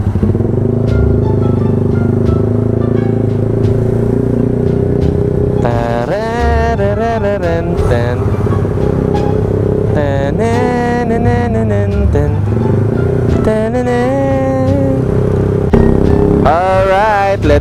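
Congested road traffic with motorcycles and cars, engines idling and revving close by, with scattered rising engine whines over a steady rumble.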